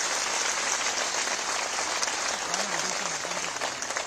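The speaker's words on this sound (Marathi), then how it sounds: "जरा एकदा दोन हातात टाळ्या तर वाजून दाखवा" Crowd applause at a political rally addressed by Uddhav Thackeray with anganwadi workers, a dense and steady wash of clapping from a large audience that carries on unbroken, with faint voices rising underneath near the end.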